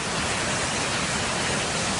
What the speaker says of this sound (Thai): แล้วก็น้ำก็ไหล ลงไปเรื่อยๆอีกทีหนึ่ง